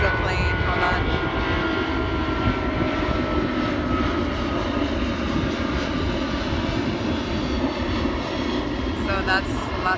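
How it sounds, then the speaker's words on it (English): Overhead at the beach in Los Angeles, an airplane flies over with a loud, sustained engine roar that holds steady for several seconds, broad and close, with no talking over it. "there's a plane, hold on."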